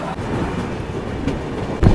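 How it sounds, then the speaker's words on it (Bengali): Mumbai local train rolling past a station near steep hills, a close continuous rumble of wheels and carriages with faint rhythmic clicks and a heavier thump at the end. "মুম্বাই লোকাল, এই যে লোকাল ট্রেন এটাও যাচ্ছে ওদিকেই।"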